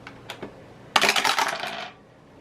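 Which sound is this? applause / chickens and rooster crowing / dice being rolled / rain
dice being rolled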